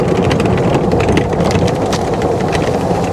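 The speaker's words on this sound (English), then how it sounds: "You can hear the gravel right now" Tractor Supply golf cart tires crunching over gravel, a dense continuous gritty rumble with a faint motor hum underneath, close and steady throughout with no talking.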